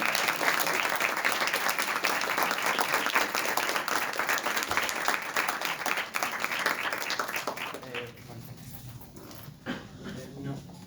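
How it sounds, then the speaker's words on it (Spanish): Audience applause after a public science talk on magnetars, steady clapping from a modest crowd that fades out toward the end, leaving a quieter room with light background noise. "Bueno, un fuerte aplauso."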